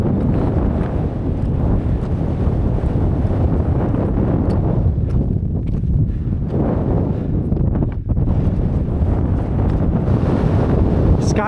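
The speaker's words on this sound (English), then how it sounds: "I know it's windy" Strong, gusting wind on a mountain ridge roars continuously across the microphone, a loud, dense buffeting rush with brief lulls and no clear speech.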